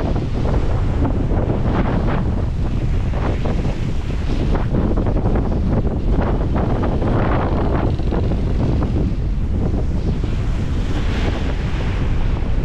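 Strong wind roaring across the microphone and ocean waves surging around a solo sailboat at sea off Cape Horn, a loud steady rush with no break.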